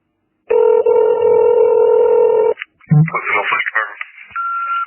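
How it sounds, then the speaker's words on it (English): A telephone call begins with a steady, loud dial tone lasting about two seconds, then a short burst of uneven electronic tones and line noise, ending in a brief higher beep. "Here's a phone call."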